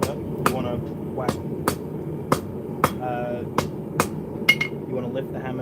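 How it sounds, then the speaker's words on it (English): Steady, evenly spaced ringing hammer blows on hot metal at a forge, chamfering the corners of a piece for a leaf key chain or axe head, loud and close with a voice talking underneath between strikes. "you want to lift the hammer and the face hit these corners and chamfer them in"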